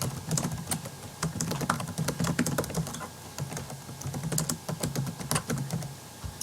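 Steady, quick typing on a computer keyboard, a continuous stream of close, crisp key clicks with uneven rhythm and no talking.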